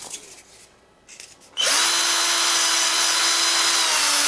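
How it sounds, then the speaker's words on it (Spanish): After a quiet moment, a power drill starts up loudly and whirs steadily at high speed, boring a hole continuously close by. "con un taladro le he hecho el hueco"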